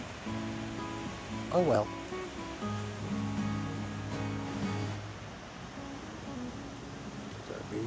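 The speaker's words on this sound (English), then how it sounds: "Waves aren't nearly as big as they've been." Ocean surf breaking on the beach at Newport Beach, a steady washing roar of modest waves heard under talking voices.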